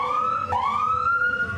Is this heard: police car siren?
yes